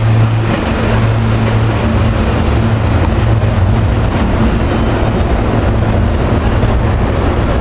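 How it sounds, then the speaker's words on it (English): Commuter train 582 to Lansdale pulling into 30th Street station, a steady loud rumble with low droning tones held throughout, close by and unbroken, with no voices. "Here we got set the train 582 to Lansdale coming in."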